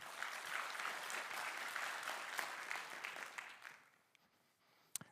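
Dense audience applause at a lightning talk session fills the first four seconds, then fades out, leaving near quiet and one sharp knock at the end.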